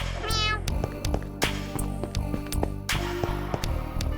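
A cat meows several times in quick succession with sharp, repeated calls over a steady busy backdrop, its cries standing clearly in front.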